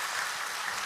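A church congregation claps together, a dense, even burst of applause that fills the whole brief moment with no voices on top.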